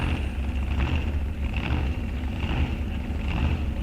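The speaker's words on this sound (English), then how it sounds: "Listen to that idle." A drag race car engine idles with a steady, low rumble and a slightly lumpy pulse, loud and close, with no voices over it.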